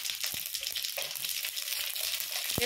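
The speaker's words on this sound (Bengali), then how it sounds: "তেজপাতা শুকনো লঙ্কা ফোড়ন দিলাম, 5 ফোড়ন," Bay leaf, dried red chili and Bengali five-spice seeds sizzle and crackle in hot oil as a tempering, a steady close hiss dotted with small pops and a few stirring clicks.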